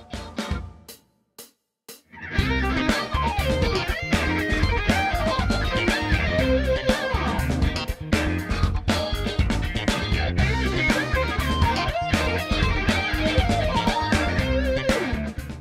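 Rapid electric guitar minor pentatonic lick that jumps up two scale positions and back down one, over and over. A few sparse notes come first, then a dense, continuous shred-style run at full loudness.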